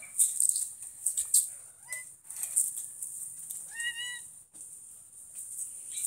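Spayed and neutered kittens waiting for adoption give a short meow or two at close range beneath a loud, steady high-pitched hiss, with no talking.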